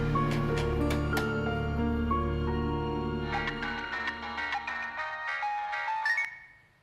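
A phone ringtone plays a bright melodic electronic tune during a call in a Tamil TV drama, steady and fairly loud before the tune fades out at the end.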